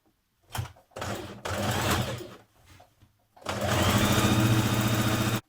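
Sewing machine stitching a skirt yoke facing in close, loud bursts: a short run, a longer steady run, a pause with faint handling, then a sustained final run.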